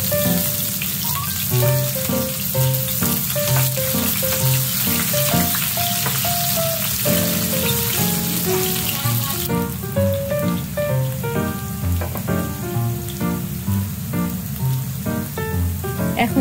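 Chopped onions fry in hot oil with whole garam masala for a quinoa vegetable khichuri, a constant close crackling sizzle heard beneath loud, steady background music.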